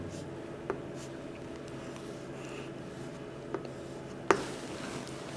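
Marker or chalk scratches softly while a word is written on a board during an English grammar lesson, with a few faint taps and clicks at a moderate distance, no talking.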